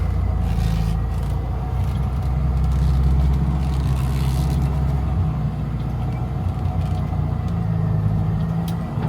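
A restored Morris Minor car pulling away with the choke on, its engine droning low and steady close by as it rolls forward, with light mechanical rattles and scraping over the running hum.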